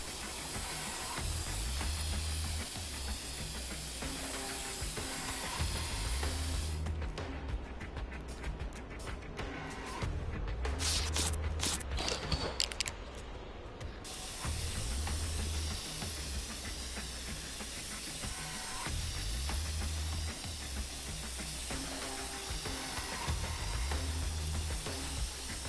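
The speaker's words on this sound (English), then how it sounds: "A man, a plan, and an aerosol can." An aerosol spray can hisses in Infamous Second Son, a steady, loud, dense spray that runs nearly continuously over game ambience, with a rougher stretch in the middle and no voices.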